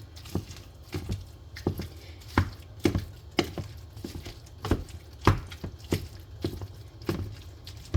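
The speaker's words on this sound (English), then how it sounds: "I am going to chop up these meats" Repeated sharp, wet chopping taps on ground beef at a quick, uneven rhythm, close by, with no talking.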